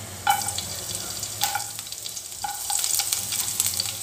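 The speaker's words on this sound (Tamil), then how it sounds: "லைட்டாக 2 நிமிஷம் வெள்ளை போட சேர்த்துட்டு வதக்கி கொடுத்துக்கலாம்" Carrots and mixed vegetables stir-fried in a pan for vegetable fried rice give a continuous sizzle, with a few sharp clinks of a spatula against the pan and stirring scrapes.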